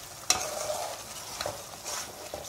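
Milk cream simmers in a pot while being rendered into desi ghee, giving a soft steady sizzle and bubbling broken by a few sharp stirring clicks and spatters, with no voices.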